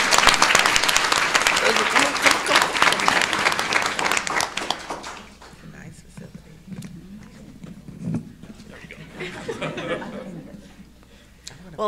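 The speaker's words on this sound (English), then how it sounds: "Let's give her a round of applause and have her come up." A room of attendees at a women's business forum breaks into loud applause for a speaker, the clapping fading after about five seconds into quieter murmur and scattered voices.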